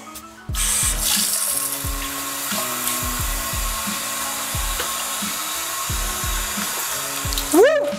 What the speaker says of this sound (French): On va remplir le ballon d'eau.